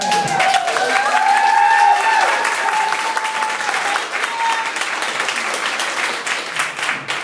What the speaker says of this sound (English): another thunderous round of applause.